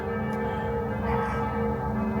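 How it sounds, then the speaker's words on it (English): Church bells ring continuously from Partenkirchen, heard from inside a hotel room as a sustained, fairly loud, overlapping peal with no voices. "listen to those bells from our hotel room"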